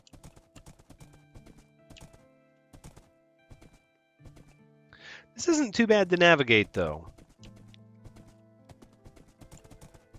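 Horse galloping in Minecraft, a steady run of hollow clip-clop hoofbeats through wooded terrain, with a louder burst of whinnying or snorting in the middle and a person talking over parts of it.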